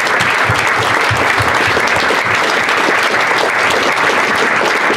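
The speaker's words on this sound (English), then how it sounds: "I think the rest of the staff do deserve a round of applause." Crowd at a football club's meet-the-owners fan event breaks into loud, continuous applause, a thick, even roar of clapping that holds at full strength for five seconds.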